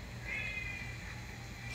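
A cat gives a drawn-out meow, fairly faint against a low background hum, with no clear talking over it.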